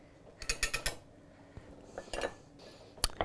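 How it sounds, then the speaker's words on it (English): Tahini lemon sauce whisked by hand in a bowl, a quick run of four or five sharp metallic clinks from the whisk hitting the bowl, then scattered scrapes and taps, close and fairly loud, with no talking. "it's quite actually easier just to whisk it by hand"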